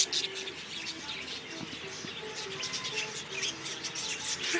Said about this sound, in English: Oh, little bird.